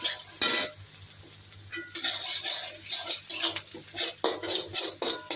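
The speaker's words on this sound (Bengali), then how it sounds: "আমি এখন একটু লতি রান্না করতেছি।" Taro stolons cooking with garlic and onion in a pan, repeated scraping stir strokes over a soft sizzle in an uneven rhythm, close and moderately quiet, with no talk.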